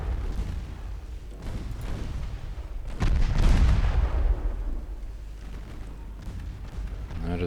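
Naval guns firing in the game Ultimate Admiral Dreadnoughts, a few heavy booming shots with long rumbling tails over a constant low background roar, the loudest blast near the middle.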